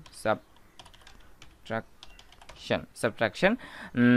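Typing on a computer keyboard during a C programming tutorial: a few scattered close key clicks mixed in with someone talking, the keystrokes brief and light under the speech.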